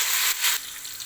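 Fennel seeds and raisins frying in a pan for jaggery rice, a steady bright sizzle and hiss close by, with a brief louder flare in the middle.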